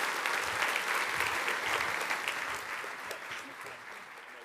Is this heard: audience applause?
yes